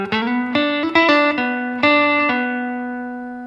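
A guitar lick from a song, a run of clear picked and slid notes with a few pauses, ringing out at the end, close and alone.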